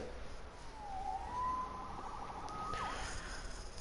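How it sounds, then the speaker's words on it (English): A siren in a video game rises and falls in two short, faint wailing sweeps over a steady background hum, with no voices. "Saved by the siren."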